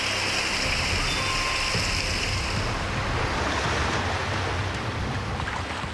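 Floodwater covers parts of Jaipur after torrential rain, producing a constant churning, surf-like roar of moving water with wind buffeting the microphone, unbroken and without talk.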